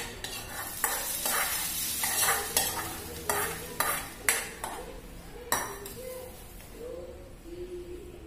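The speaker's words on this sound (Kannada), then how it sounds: "ಒಗ್ಗರಣೆನ ಹಾಕ್ತಾ ಇದ್ದೀನಿ." Urad dal tempering sizzles in hot oil while a metal spoon stirs and clinks against the pan in repeated sharp taps, with the frying hiss fading toward the end.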